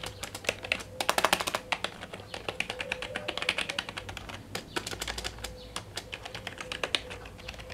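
Fast typing on a Logitech G510s gaming keyboard, a steady stream of close, crisp key clicks in uneven bursts with short pauses.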